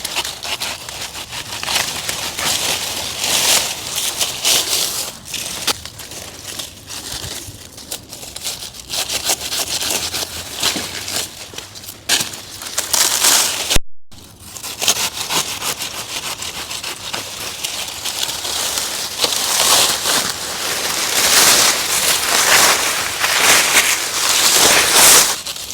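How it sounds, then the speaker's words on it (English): A hand saw cuts through a juicy hardy banana stem being cut back for overwintering, giving loud continuous rasping, wet tearing strokes close by, with a brief break midway. "the best tool for the job is a saw, and it really gets in there well and slices through everything pretty easily"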